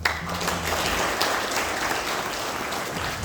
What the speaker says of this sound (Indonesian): tepuk tangan untuk Pak Endang